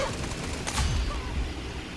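Gunfire in a video game: a brief burst of shots rings out once over steady in-game background noise, with no talking during it.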